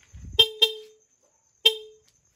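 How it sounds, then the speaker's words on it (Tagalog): A Honda XRM110 motorcycle's stock horn honks three times, two quick beeps then a single one, fairly thin and bright, close by with silence between. "Ito yung stock horn."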